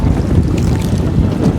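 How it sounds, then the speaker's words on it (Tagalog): Strong wind buffets a boat out on open water, a loud continuous low rumble with gusty microphone noise and no voices. "Mahangin na naman, oh."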